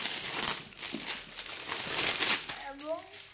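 Close crinkling and rustling of packaging as a science kit box is opened, in irregular bursts with a voice speaking over it.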